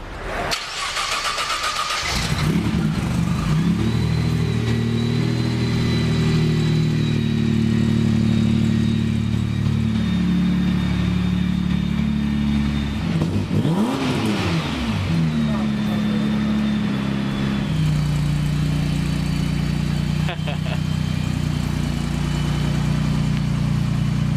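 A modified Nissan Patrol engine cranks and catches, then idles with a deep, steady rumble and revs up and down a couple of times, loud and close, with voices talking over it.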